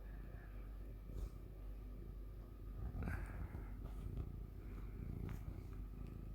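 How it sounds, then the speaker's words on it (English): A cat purrs close by as a steady low rumble, continuous across the whole stretch, with a few brief clicks and faint sounds from a strategy game on top. "if you can hear any purring up there"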